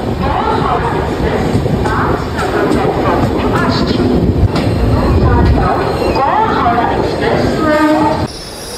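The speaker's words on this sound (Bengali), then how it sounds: "আমাদের ট্রেন এসে গেছে বর্ধমান জাংশন রেলওয়ে স্টেশনে" A train pulls into Bardhaman Junction railway station with loud, close rumbling, rail clatter and squealing wheels. Voices are heard faintly under the noise before it eases near the end.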